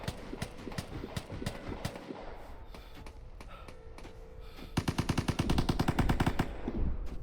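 Rapid bursts of automatic gunfire in the online shooter Vigor, sharp repeated cracks in dense volleys that grow louder and faster toward the end, with no talking.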